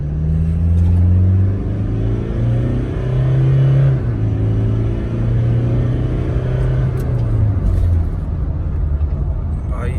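A Toyota Innova Crysta's engine pulls in power mode, a loud, steady low rumble from inside the cabin rising and falling with throttle through the ride, with people talking over it.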